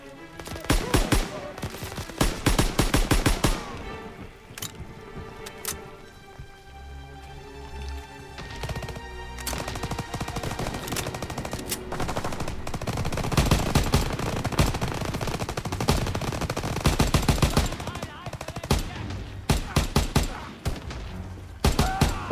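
Enemy gunfire crackles through a Call of Duty WWII battle, with rapid machine-gun bursts in dense clusters and single shots between them, some close and loud and others more distant, heard throughout with a brief quieter stretch in the middle.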